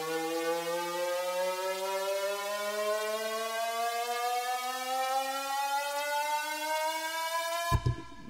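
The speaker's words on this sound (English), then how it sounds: "so that's your ES2 riser" A synth riser built on Logic Pro X's ES2 synthesizer sweeps steadily upward in pitch for about eight seconds, a bright buzzy tone rising evenly before cutting off abruptly with a brief thump at the end.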